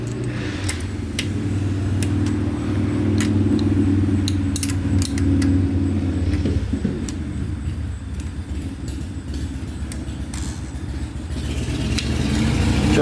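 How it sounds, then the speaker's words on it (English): A neighbor's Harley-Davidson motorcycle engine rumbles steadily in the background, a low continuous drone that swells and eases through the clip, with light clinks of tools nearby. "My neighbor likes to rev his Harley."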